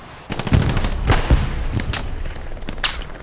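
Artillery and gunfire in the WWII shooter Hell Let Loose, a run of loud booms and sharp cracks over a constant battlefield rumble, some shots near and others distant, with no talking.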